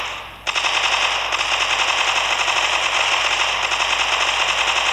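Rapid automatic gunfire in the mobile shooter Crossfire Legends, a loud continuous burst of evenly spaced shots that runs almost the whole time after a brief pause near the start.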